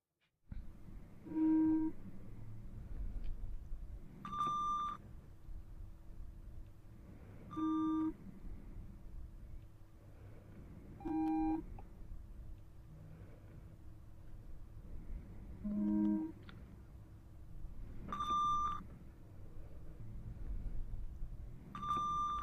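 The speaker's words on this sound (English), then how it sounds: "you are going to hear beeps in both of your ears" Hearing-test beeps during a quiet eye exam: short clear electronic tones sound singly every few seconds, each brief and ringing, spaced irregularly against a soft background hush with no talking.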